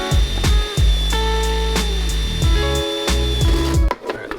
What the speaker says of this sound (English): we're going to use a 7/8 inch bit